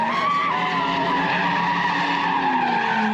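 Loud, continuous tire squeal from a car spinning donuts at an Oakland street sideshow, a high sustained screech with engine roar underneath, close and unbroken.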